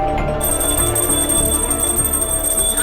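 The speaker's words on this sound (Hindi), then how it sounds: "क्यों इतनी घंटी बज रही है।" An electric alarm bell rings continuously with a steady metallic tone, loud and unbroken throughout.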